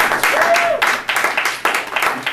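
Short bursts of clapping from a small group at a high school club session, uneven and close, with a few separate claps standing out.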